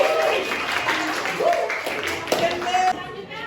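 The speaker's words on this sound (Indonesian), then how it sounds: "Tepuk tangan dulu buat kelompok 1." Classroom applause for a student group after its presentation: scattered, fairly close hand-clapping from a small group, irregular and uneven, with a few voices mixed in.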